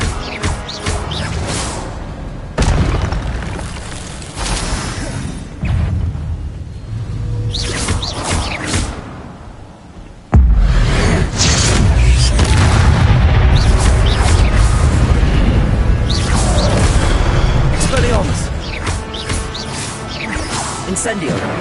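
Booming spell blasts and whooshes from combat in Hogwarts Legacy, with loud bursts and a sustained rumbling stretch in the second half, mixed with a voice speaking over the action.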